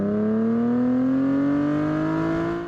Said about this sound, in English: I have a PLM axle-back exhaust.